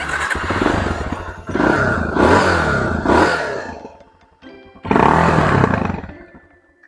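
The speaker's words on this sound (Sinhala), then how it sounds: "මේ ස්විච් එක එබුවාම බයික් එක ස්ටාර්ට් වෙනවා" A Yamaha TTR 250 motorcycle fired up with its start switch, its engine giving several loud, close roaring bursts that rise and fall, with a brief lull before a final surge.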